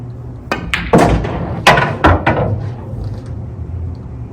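A pool cue strikes the cue ball during cue ball control practice, giving a few sharp knocks and clacks close by, with a faint trailing rumble and no talk.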